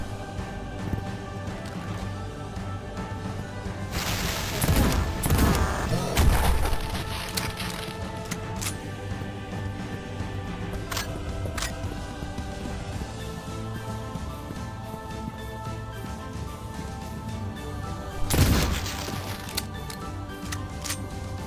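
A bolt-action rifle fires in the game Cultic, two heavy booming shots several seconds apart over a constant droning music-and-ambience bed, with scattered clicks of bolt cycling between.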